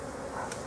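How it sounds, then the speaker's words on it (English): Honey bees buzzing inside a hive in a bee yard on a spring morning, a soft, continuous, even hum heard close for a moment. "there's more bees in there than I thought there was"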